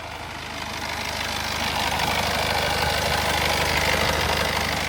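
Steady, close idle of a 2015 Honda City diesel engine with a low droning rumble and a slight rattle, growing a little louder partway through and holding even.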